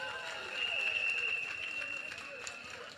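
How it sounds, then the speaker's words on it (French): A crowd applauds an organising committee at a political rally in Yopougon, a broad, steady wash of clapping that swells after a moment and holds at moderate distance, with a faint voice beneath. "Il faut applaudir le comité très fort."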